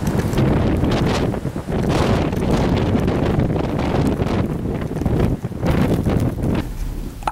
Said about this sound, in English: on a very windy, snowy day